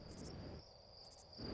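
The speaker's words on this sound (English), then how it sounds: "The crickets." Crickets chirp in the space exploration video game Outer Wilds, a faint, steady insect trill that pulses softly over a quiet ambient background.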